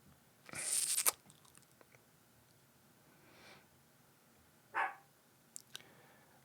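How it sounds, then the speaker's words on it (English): A dog barks in a few short bursts with gaps between, fairly distant and moderately loud against a quiet room. "she's barking again."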